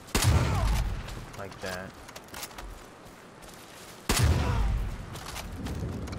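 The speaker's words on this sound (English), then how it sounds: "I think I have a shotgun, yeah. I'm gonna go with that." Shotgun blasts in the Far Cry video game: two loud, booming shots a few seconds apart, each decaying with a rumbling tail, with someone talking briefly in between.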